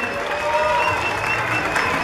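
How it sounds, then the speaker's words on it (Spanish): Audience applause at a spring fair queen coronation, a steady dense clapping from a crowd that holds evenly through the short stretch, with a faint murmur of voices beneath it. "Fuerte el aplauso y..."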